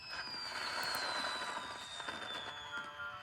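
Fireworks crackle and burst at a carnival, a dense continuous fizzing and popping with a whistling rocket tone sliding through, steady and moderately loud.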